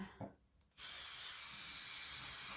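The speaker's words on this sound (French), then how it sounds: "Donc là, toujours ma bombe. Donc, c'est de la colle en spray." Spray glue hisses from an aerosol can while Christmas table centrepiece decorations are made, a loud continuous spray starting after a short pause and holding steady to the end.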